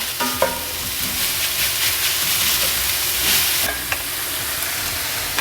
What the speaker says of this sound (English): Keep cooking and stirring it until you see that all of the sausage is fully browned